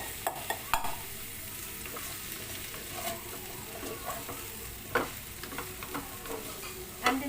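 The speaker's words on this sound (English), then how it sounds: "And then just saute this for 1 minute." Beef and broccoli sautéing in a single pan with a tablespoon of oil, giving a soft, steady sizzle broken by scattered light scrapes and clicks of stirring.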